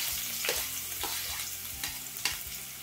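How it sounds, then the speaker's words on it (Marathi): Finely chopped onion sizzles in hot oil with cumin seeds in a pan, a steady close frying hiss broken by a few sharp stirring scrapes, with no talking. "त्यामध्ये आपण एक मीडियम आकाराचा कांदा जो मी बारीक कापून घेतला आहे"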